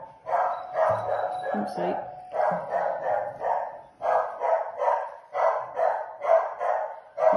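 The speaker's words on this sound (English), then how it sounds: "Can you hear my dog barking?" A dog barks repeatedly in a steady rhythm close by, with a person speaking briefly over it.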